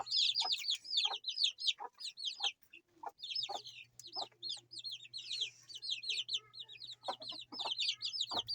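Hens cluck and chatter repeatedly in a screened coop, a busy overlapping run of short calls close to the microphone with a steady low hum underneath.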